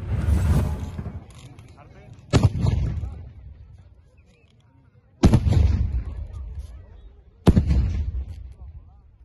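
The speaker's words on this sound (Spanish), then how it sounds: "Los petardos elaborados con nitrato de azufre son colocados en uno de los extremos del mazo" Several loud, sharp firecracker blasts, four in all, at a patron saint festival in San Juan de la Vega, each followed by a rumbling echo that slowly fades, spaced a few seconds apart.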